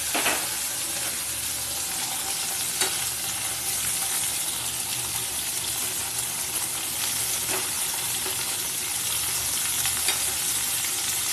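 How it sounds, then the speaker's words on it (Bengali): Steady, loud sizzling of okra and potatoes stir-frying in a pan, with occasional scraping clicks from stirring, continuous throughout with no talk. "এবার নেড়ে চেড়ে ভাজা ভাজা করে নিতে হবে।"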